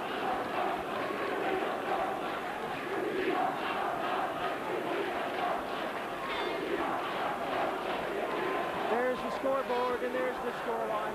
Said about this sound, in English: And listen to the crowd. We are number one.